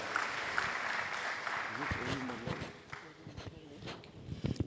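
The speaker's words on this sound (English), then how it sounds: "Please a round of applause for her." An indoor audience at a formal launch event gives a round of applause, steady clapping close by that thins out toward the end as a voice begins speaking over it.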